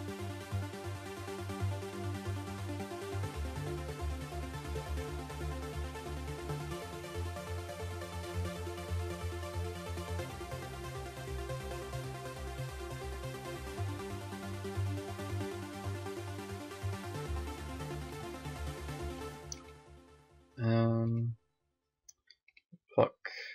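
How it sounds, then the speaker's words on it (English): A simple arpeggiated synth line in FL Studio plays as a dense, sustained stream of quick repeating notes at moderate level for about twenty seconds, then cuts off, leaving a few brief clicks. "This is the ARP, really simple sound."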